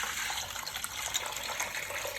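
Palm nut soup liquid for abenkwan pouring steadily through a sieve into a black saucepan, a continuous splashing trickle close by with no talk.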